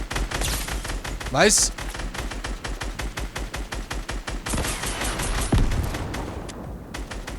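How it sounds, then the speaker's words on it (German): Rapid automatic gunfire in the video game Fortnite, dense repeated shots in steady bursts with a brief burst of louder blasts, a short spoken word and brief voices over the shooting. "Oh, ein Schuss"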